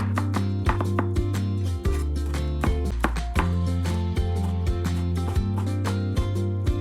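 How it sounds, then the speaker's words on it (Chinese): A knife chops scallions and garlic on a board for a sweet and sour fish dish, with steady, fairly quick thuds close by over continuous background music. "将小葱、大蒜切碎"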